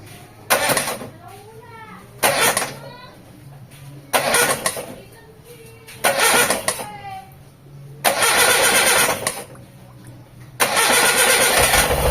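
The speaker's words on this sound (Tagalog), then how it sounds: "Start natin yung engine." The 4G13 engine of a Mitsubishi Lancer, freshly overhauled with new piston rings, cranks in several loud separate bursts before catching and running steadily at the end, with someone talking between attempts.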